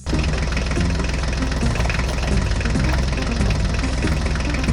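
A toy mini tractor's engine runs steadily with a dense, rapid knocking chug, loud and continuous throughout with no pauses or voices.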